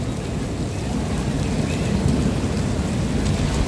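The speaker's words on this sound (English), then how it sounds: "it sounds like the storm is probably just right above us now." Heavy rain pours down during a thunderstorm in Tokyo, a loud, dense and continuous roar of rain with low thunder rumbling throughout.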